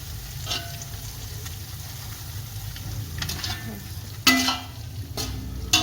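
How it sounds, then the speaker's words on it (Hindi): Garlic frying in hot ghee for chana pulao gives a soft, steady sizzle. Occasional clinks and scrapes from stirring cut through it, with a couple of sharper knocks near the end. "इसको ज्यादा नहीं भूनना, तकरीबन आधा मिनट ही हम भूनेंगे।"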